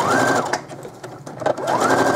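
A sewing machine back stitches the seam of a cotton slip, giving a loud, close, rapid mechanical whir that pauses briefly mid-run as it reverses, then speeds up again.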